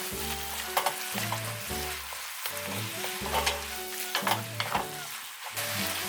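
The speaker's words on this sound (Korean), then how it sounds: "면을 잘 풀어서 면을 완전히 익혀주도록 합니다" Ramen noodles being stirred and cooked in a pan with salt and pepper, a steady close sizzle with repeated scraping and stirring strokes roughly every second, no talk.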